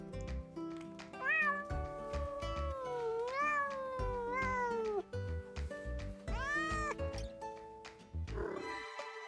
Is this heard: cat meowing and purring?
yes